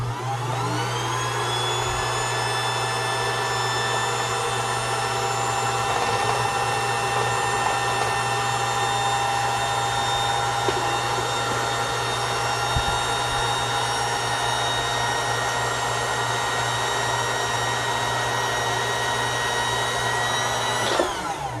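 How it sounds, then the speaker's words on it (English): A Bernina 811 sewing machine runs its bobbin winder, giving a steady, even motor whine with a constant pitch that holds for about twenty seconds without a break. "when the bobbin is full, the bobbin winder will stop winding"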